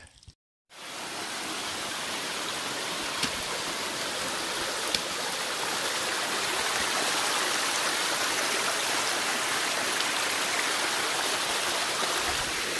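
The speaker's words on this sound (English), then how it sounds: "we will look at the water. Everywhere there's water." A stream flows beside the Appalachian Trail during a 2019 thru-hike. Water rushes in a steady, close, continuous wash that stays even throughout, with no voices.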